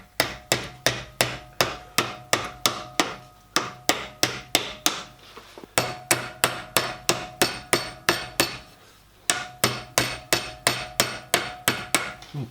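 A hammer fitted with a PTFE cover strikes annealed metal in a model engineering workshop building a 5-inch gauge steam locomotive, a long run of steady, evenly spaced blows with brief pauses between groups, close and crisp.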